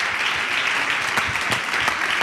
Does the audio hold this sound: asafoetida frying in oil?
no